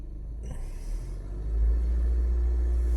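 A stationary car's engine is revved during an ECM engine-load test, a steady low rumble that swells louder partway through and holds at the higher pitch.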